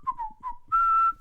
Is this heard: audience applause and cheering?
no